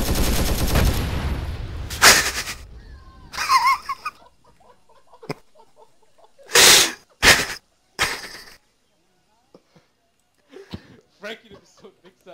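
Gunfire aimed at civilians in a Vietnam War video game: several loud, short bursts of shots and single cracks come in uneven clusters, with voices talking in between.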